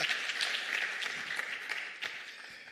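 An audience claps together in a sustained burst of applause that gradually thins and fades toward the end.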